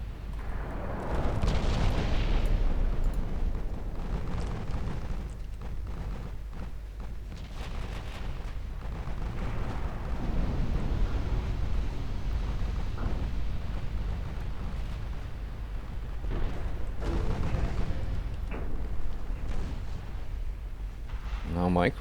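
Naval gunfire from 10-inch guns in the warship game Ultimate Admiral Dreadnoughts: heavy, rumbling booms roll on continuously for about twenty seconds, with several sharper blasts standing out over a dense, loud low-end roar.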